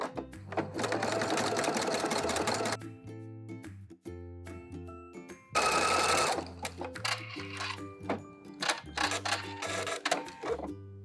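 A sewing machine runs a zigzag seam along 3-inch knit lace in quick motor bursts, with short pauses between runs of stitching, close and clear with no talking.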